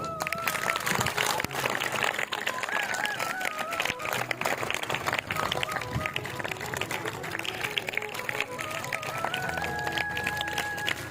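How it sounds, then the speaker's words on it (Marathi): Audience at a live public interview event clapping loudly, a dense, sustained wash of applause lasting the whole stretch without a break. "आता मी पाणी पिईपर्यंत जोरदार टाळ्या वाजवा"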